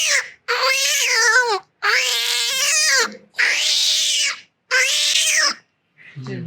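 A mimicry artist's voice imitates a cat growling in four loud, close, drawn-out yowling bursts separated by brief pauses, each wavering in pitch, with a faint trailing sound at the end.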